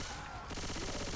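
Rapid automatic gunfire in the Left 4 Dead 2 video game, a dense, loud burst of shots fired in quick succession.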